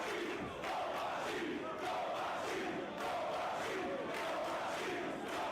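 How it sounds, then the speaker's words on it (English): A large wrestling arena crowd roars and cheers in support of Kobashi after a kick-out at two. The dense, continuous wall of voices is loud and swells in waves throughout. "Now the crowd, you can tell, on the side of Kobashi"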